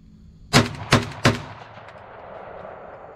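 Three sharp shotgun blasts from a Saiga 12 fed by a KUSA magazine with light ammunition, fired in quick succession about a third of a second apart, each with a short echoing decay outdoors.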